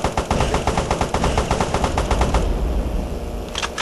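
Aircraft machine gun in the Airfrix Dogfighter game fires a fast, steady stream of loud, close rattling shots for over two seconds, then stops, leaving a low engine drone and a brief extra burst near the end.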